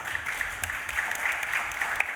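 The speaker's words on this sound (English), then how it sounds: "Please, a round of applause for him." An audience at a scientific conference session applauds to welcome a speaker, with steady, moderately distant clapping filling the hall throughout.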